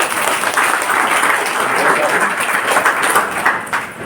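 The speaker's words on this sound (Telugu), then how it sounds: "గట్టిగా ఒకసారి క్లాప్స్ కొట్టండి" An audience in a hall applauding loudly, a dense, sustained burst of many hands clapping together that holds strong for about four seconds before easing slightly.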